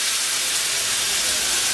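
Water poured into a hot pan of rohu fish curry, a steady loud hiss and sizzle of steam rising up close, brief and continuous.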